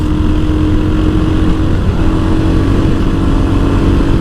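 Royal Enfield Hunter 350 motorcycle at top speed in fourth gear, its engine droning steadily and loudly at high revs with heavy wind rush, no talk over it.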